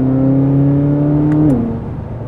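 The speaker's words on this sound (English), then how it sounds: "As you depress the accelerator, it's almost like the exhaust turns up a notch or two and gets into extreme beast mode level." A 2023 Corvette Z06 with 670 horsepower and an 8,600 RPM redline sends a steady, loud engine and exhaust drone with a held pitch that drops away near the end as it eases off, heard alone without talk.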